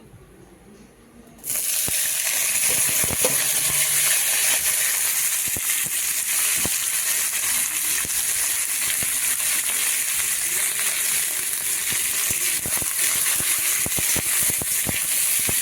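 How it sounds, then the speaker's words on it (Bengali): Cabbage, onion and green chilli hit hot oil in a wok, and a sudden loud hiss turns into a steady, close sizzle with scattered pops and crackles that lasts throughout. "কড়াতে তেল দিয়ে দিয়েছি এবারে কেটে রাখা সবজিগুলো দিয়ে দেবো সবজির মধ্যে আছে বাঁধাকপি পেঁয়াজ"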